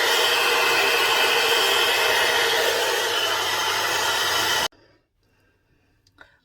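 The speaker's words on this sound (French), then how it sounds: "séchage de cheveux terminé" Hair dryer blowing loud and close in a steady roaring whoosh while drying hair, then switched off abruptly, leaving near silence with faint handling sounds.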